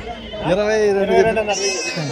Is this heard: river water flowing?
no